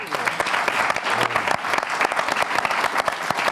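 A charity telethon audience applauding, dense continuous clapping from a sizeable crowd, close and sustained throughout.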